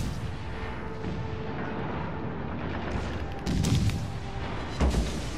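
Naval gunfire in World of Warships: Legends, a steady dense rumble of battle with two heavier booming salvos landing near the end, no talk over it.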